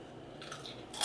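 Crunching of potato chips from a blue bag, a reduced-fat, lower-sodium variety, being bitten and chewed up close; a soft grainy crunch builds into a sharper, louder crackle at the end.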